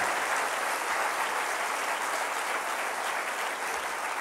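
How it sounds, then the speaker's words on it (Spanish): A church congregation gives sustained applause, a dense, even wash of clapping from a large crowd that runs steadily throughout without a break. "Dele otro aplauso a Él"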